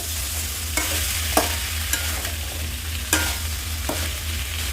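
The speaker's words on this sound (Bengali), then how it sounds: "মশলাটার সঙ্গে এটাকে ভালো করে কষিয়ে নিলাম।" Mutton sautés with spices in a pot without water, a steady sizzle running throughout while a spoon scrapes and stirs in several sharp strokes, close and fairly loud.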